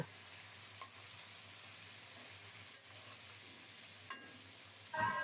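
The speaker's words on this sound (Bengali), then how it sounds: "মাছগুলো উল্টে দিচ্ছি" Steady sizzling of hilsa fish frying in a hot pan goes on throughout, with a few soft clinks of stirring and a brief clatter at the end.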